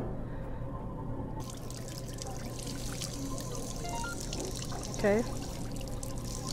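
Water pours into a kettle inside a VR video game, a steady, close trickle with dripping texture running throughout over a low background hum, with a brief spoken word near the end.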